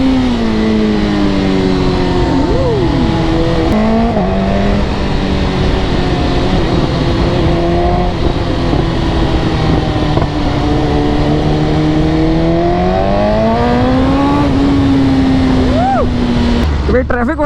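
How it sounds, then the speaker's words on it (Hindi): A Suzuki Hayabusa motorcycle rides through heavy traffic with an aftermarket exhaust whose baffle is still fitted, giving a steady, fairly subdued engine drone with slow rises and falls in pitch, while someone talks over it throughout. "अभी थोड़ी सी आपको शांत लग रही होगी बाइक, शांत इसलिए कि एग्जॉस्ट जो लगा है वो एग्जॉस्ट तो लग गया पर उसका बैफल अभी भी नहीं हटा है"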